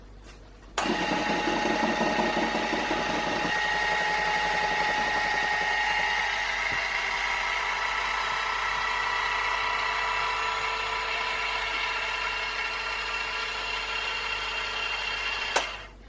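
An electric mixer beats gluten-free, lactose-free cake batter in a bowl, a steady close motor whir starting abruptly and running unbroken for about fifteen seconds before switching off with a click.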